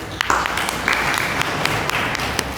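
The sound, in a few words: audience applause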